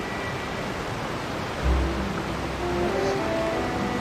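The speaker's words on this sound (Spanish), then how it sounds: "¿Verdad que ahí está la cascada esa ahí brutal?" Roaring waterfall in the Fontaine region of the video game Genshin Impact, a steady broadband rush of falling water that holds level throughout, with a faint low thump midway.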